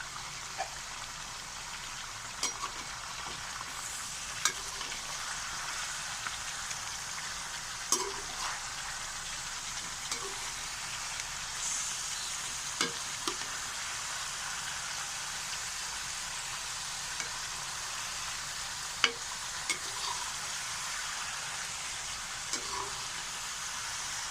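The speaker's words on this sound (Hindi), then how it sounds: "अब हम इसे अच्छे से फ्राई करेंगे, चम्मच की मदद से इसे हिलाते रहेंगे।" Chicken frying in a pan with a steady, even sizzle that runs the whole time, while a spoon taps and scrapes against the pan at scattered moments as the pieces are stirred. Nobody speaks.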